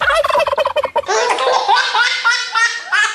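A voice imitates a turkey's gobble, a rapid run of warbling, bubbling calls repeated for about three seconds, loud and close with no other sounds around it.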